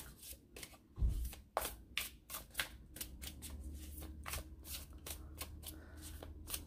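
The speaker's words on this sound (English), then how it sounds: "I shuffle with the cards face up" Tarot cards shuffled face up, a rapid series of crisp riffling flicks and soft slaps repeating steadily up close, with one louder thump near the start and a low background hum underneath.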